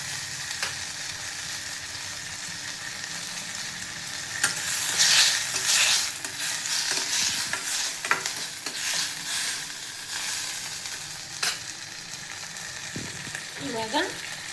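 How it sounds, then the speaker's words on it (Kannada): Tomato frying in half a spoon of oil while being stirred, a steady close sizzle with scraping spoon strokes and small clinks, no talk. "1 ಗಡ್ಡೆಯಷ್ಟು ಟೊಮ್ಯಾಟೊನ ಸ್ವಲ್ಪ ಫ್ರೈ ಮಾಡ್ಕೊಳ್ಳೋಣ ಸಾಫ್ಟ್ ಆಗೋವರೆಗೂ"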